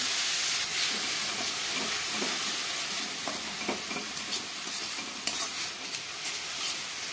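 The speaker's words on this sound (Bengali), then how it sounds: "নাড়তেই থাকতে হবে, নাড়া বন্ধ করা যাবে না, নাহলে পুড়ে যাবে।" Grated papaya fries in a pan for a sweet laddu, giving a continuous close hiss and sizzle under a spoon that scrapes and stirs it steadily, with no voices.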